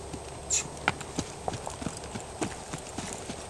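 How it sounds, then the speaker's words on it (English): Hoofbeats of a young wild mustang gelding under saddle on its fifth ride, a steady, uneven clip-clop of hooves close by with a few sharper strikes and no voices. "It's a little wild horse."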